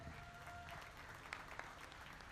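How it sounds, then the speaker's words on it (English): Audience applause at a youth beef market show, a steady, fairly even wash of clapping from a crowd that holds through the whole span. "Let's give these exhibitors a round of applause"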